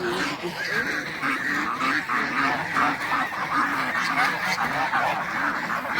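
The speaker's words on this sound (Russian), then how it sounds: "Сейчас будут идти мои гуси." A flock of geese honks repeatedly nearby, a continuous clamor of overlapping calls with some duck-like quacks mixed in.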